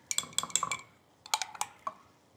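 Spoon clinking against a bowl while thick Greek yogurt is mixed with cream, two quick bursts of bright metallic taps and scrapes, close and fairly quiet, with no voices.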